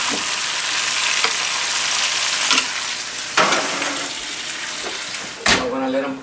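Green beans and garlic fry in a hot pan with truffle oil, a steady close sizzle broken by a few sharp utensil clinks and stirring scrapes, with faint speech at times.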